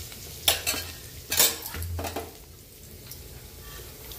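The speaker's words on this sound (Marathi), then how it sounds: "आता आपण जिरे टाकून घेऊ, लसणाच्या 5-7 पाकळ्या घातल्या" Cumin seeds and five to seven garlic cloves fry in oil, with a soft, faint sizzle under a few sharp utensil scrapes and clanks against the pan early on, then quieter stirring.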